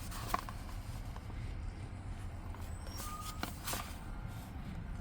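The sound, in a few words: bus reversing beeps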